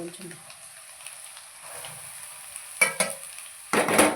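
Grated carrot frying with onions in a pan, a soft steady sizzle under a quiet voice, with a couple of sharper stirring scrapes near the end.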